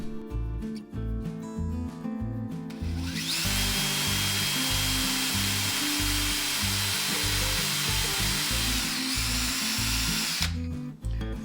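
Power driver sinking large screws into the wooden fence of a crosscut sled, one long loud continuous whine lasting several seconds, close up, with a rhythmic low thumping in the background before and after.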